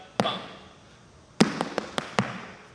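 Irish dance steps, bangs, tips and trebles, strike a floor: one sharp tap, a pause, then a quick cluster of four or five percussive hits in an uneven rhythm, close and fairly loud.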